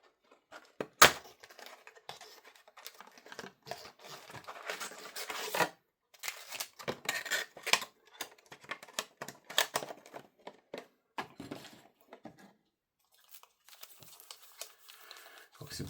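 Foil of a trading sticker booster pack being torn open and crinkled by hand, with intermittent crackling rustles and tearing bursts at close range, quiet between movements.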